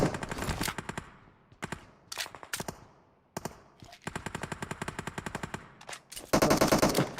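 Automatic gunfire from the mobile game PUBG Mobile rattles in several rapid bursts separated by short pauses, ending in a louder sustained volley.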